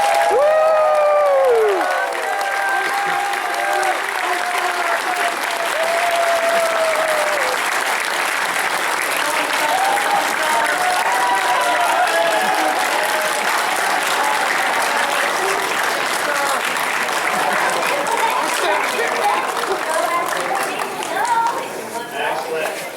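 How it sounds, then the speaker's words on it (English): Sustained audience applause and cheering for Watson Amelia at a convention Q&A panel in Orlando, a loud, steady wall of clapping with whoops and crowd chatter throughout. "Give her a round of applause"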